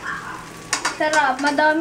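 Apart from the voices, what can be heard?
omelette frying in a pan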